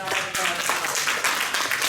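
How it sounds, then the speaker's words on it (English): Audience at an academic publishing forum clapping together, a brief dense burst of hands that stays steady and fairly close, with some voices underneath. "Let's give a round of applause."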